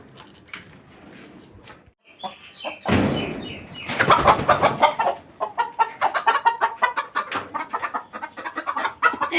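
A hen clucks in a backyard coop in rural Bengal where a freshly laid egg is collected, with a loud rustle or bump midway, followed by a close, steady run of rapid, repeated clucks.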